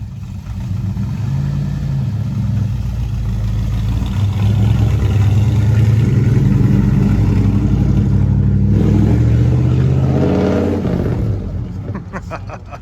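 A 1967 Ford Galaxie's V8 engine rumbles loud and close, revving up as the car pulls away and fades, with a brief voice near the end.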